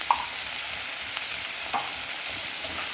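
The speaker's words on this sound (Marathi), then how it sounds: "आणि या प्रकारे त्याला हलवायचं" Salted potatoes fry in a pan for sabudana khichdi with a faint, continuous sizzle. A light clink comes at the start and a soft stirring scrape follows later, both heard close with no talk.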